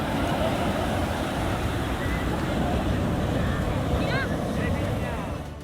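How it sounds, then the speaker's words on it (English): Waves crash along the wild, cliff-lined coast of Chile in a continuous loud roar of surf, mixed with heavy wind buffeting the microphone. "Chile's coast is wild, as it is filled with crashing waves"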